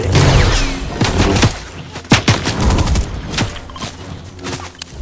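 Ray gun blasts in a zombie-mode shooter video game, dense bursts of rapid sharp shots and booms layered over each other, loud and close, with brief pauses between volleys.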